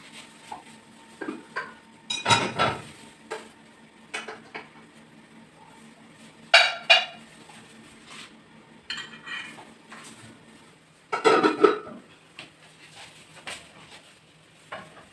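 A cooking pot set onto a gas stove in a home kitchen, heard as scattered metallic clanks and knocks at irregular intervals, with a few louder bangs of cookware between quieter taps.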